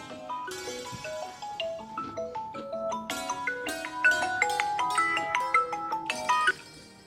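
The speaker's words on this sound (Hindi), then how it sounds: "इसका फोन आ रहा है, इसे देख लो।" A mobile phone rings with a bright melodic ringtone, a run of quick electronic notes that repeats its tune for several seconds, clear and fairly close with no talk over it.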